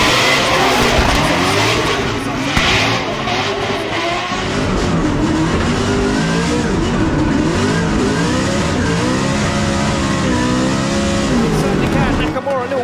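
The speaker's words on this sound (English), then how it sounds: "here we go, through the gears they go, fire in, James Deane" Drift cars, including an RTR Mustang, race at Drift Masters Finland with loud engines revving up through the gears and tires skidding and squealing throughout, while a commentator talks over the continuous roar.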